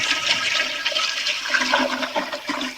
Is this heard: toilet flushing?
yes